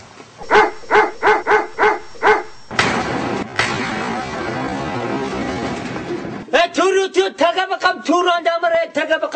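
Big dogs bark outside a home: a regular run of loud barks, then a noisy stretch, then rapid overlapping barking, with voices present.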